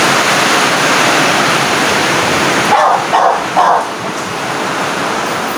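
A dog barks a few times, fairly close, during a typhoon, three short yelps cutting through a constant loud roar of wind and rain.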